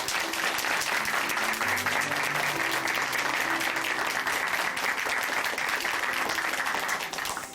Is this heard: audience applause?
yes